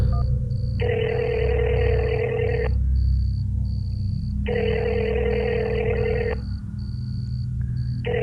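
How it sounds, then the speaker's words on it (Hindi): A phone call rings out in two long, steady buzzing tones separated by a pause. A faint, regular high beep repeats throughout over a constant low hum. "यार रिंग तो लंबी जा रही है।"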